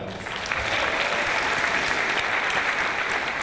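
Standing audience applauding 2012 inductees at an induction ceremony, a full, even roar of clapping from a large crowd that rises quickly and stays strong throughout.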